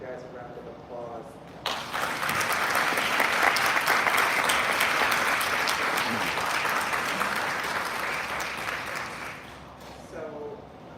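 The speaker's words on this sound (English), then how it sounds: "let everybody give you guys a round of applause" Sustained audience applause from a live-streamed conversation on history and power, loud and steady for about eight seconds, with brief talk before it starts and after it fades.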